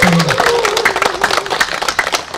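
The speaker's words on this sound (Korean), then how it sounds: "큰 박수 부탁드립니다" Audience clapping at a Korean literary gathering and book publication celebration, a steady patter of hands with a brief vocal sound at the start, moderately loud and continuous.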